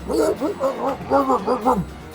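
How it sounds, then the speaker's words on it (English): A hound bays repeatedly in a deep, doubled voice that sounds like two dogs barking together. The calls come in close, rhythmic bursts at a steady volume. "And it sounds like two hounds barking at the same time."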